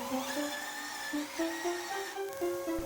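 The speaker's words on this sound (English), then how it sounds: "PPE on, and I'm sanding away with a belt sander." A belt sander runs on wood while building a bat box, giving a continuous high whine with a shifting pitch that rises and falls as pressure changes, fairly close and alone without speech.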